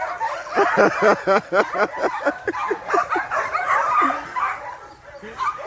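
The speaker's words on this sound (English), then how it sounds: "I raise dog up in the hill" Several dogs on a dog farm in the hills of Jamaica bark and yip in quick, overlapping bursts, loud and close, with a few whimpers mixed in.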